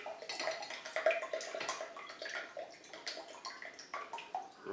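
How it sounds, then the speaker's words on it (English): Vinegar and Worcester sauce are poured into a bowl for boerewors sausage, a faint, continuous liquid trickle and gurgle with small splashes, heard alone. "Got 100 mils of vinegar, and I'll put in 50 mils of Worcester sauce."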